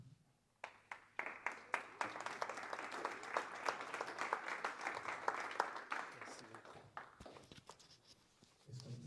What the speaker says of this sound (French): Est-ce qu'on peut refaire une double main d'applaudissement, s'il vous plaît?